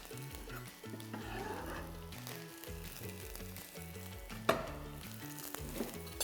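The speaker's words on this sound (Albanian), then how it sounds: "i shtojmë këpurdhat në tigan" Mushrooms sizzle steadily in a frying pan with butter or sunflower oil. The frying hiss runs continuously under loud background music, with one brief clatter midway.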